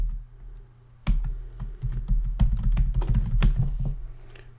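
Typing a password on a computer keyboard, a close, brisk run of clicky keystrokes that starts after a second of near silence and continues in uneven bursts, with no talking.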